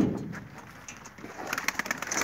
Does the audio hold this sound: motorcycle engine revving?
no